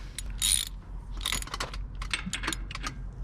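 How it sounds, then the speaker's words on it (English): A ratchet wrench with a 1.5 inch socket clicks in quick uneven bursts, tightening the hub nut on a 7K trailer axle being converted to an oil bath hub, close by over a low background hum. "Now I tighten it up pretty good until I feel that there's no movement at all on my hubs"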